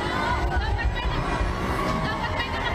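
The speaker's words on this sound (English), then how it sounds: "Spectators waving Philippine flags erupted to cheers as the athletes made their way to their float." A crowd at the Philippine Olympic team's homecoming parade in Manila, a continuous dense murmur of chatter and distant cheering, with a nearby voice talking over it.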